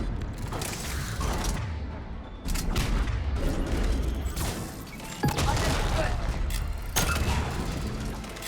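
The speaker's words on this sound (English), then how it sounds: "This is like the Venom shotgun, right?" The Venom shotgun in Mass Effect 3 fires several heavy, booming blasts a few seconds apart over ongoing battle noise and mechanical clatter, with some talking.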